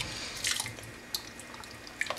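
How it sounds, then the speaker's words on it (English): Makeup brush dipped into a bowl of soapy water, giving a few soft, close watery drips and splashes with brief sharp drops near the start and end, quiet and without talk. "dip it back into the bowl of water."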